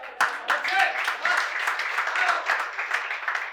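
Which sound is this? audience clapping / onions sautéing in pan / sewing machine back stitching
audience clapping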